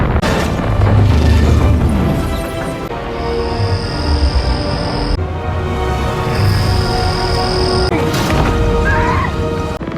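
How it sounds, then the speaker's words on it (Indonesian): A film explosion from Moonfall thunders loudly with a deep, sustained rumble and repeated heavy booms and crashes layered over dramatic sound effects, with no talk. "Ledakan pun terjadi dan Dr. Husman harus mati dengan monster itu."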